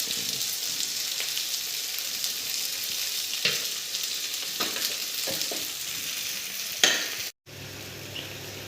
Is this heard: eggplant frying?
yes